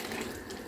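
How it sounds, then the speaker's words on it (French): Water pours into a blender to rinse it while peanut sauce is being made, giving a brief, faint, steady rushing splash. "ajouter de l'eau dans le blender pour rincer"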